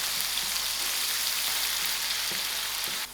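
Onions fry in a pan, giving a steady, dense sizzle that runs without a break and stops abruptly at the end, with faint scattered stirring taps beneath.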